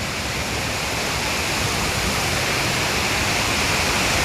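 Savatkada waterfall, a deep plunging fall with a cave beneath it, roars as a steady, loud, dense wash of falling water that fills the whole stretch with no pauses or voices.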